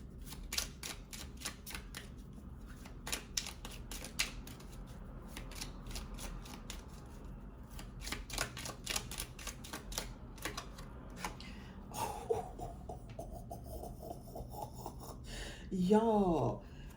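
A deck of playing cards shuffled repeatedly in close, crisp riffling bursts with short pauses between, ending in a brief louder flutter.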